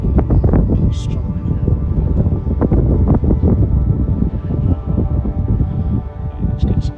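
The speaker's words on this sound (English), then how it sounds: "fighting against the wind coming up that valley. High wind" Strong wind rushes up a valley during a paraglider flight, buffeting the microphone with a loud, constant roaring rumble that gusts unevenly for the whole stretch.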